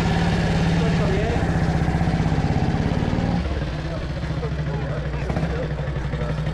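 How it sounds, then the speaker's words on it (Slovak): A 1948 Jawa 350 single-cylinder motorcycle idles steadily at a vintage vehicle meet in the Tatras, its low rhythmic thumping close and continuous, briefly dropping in tone midway, with voices talking nearby. "Hovorí sa, že toto je motorka s najkrajším zvukom na svete."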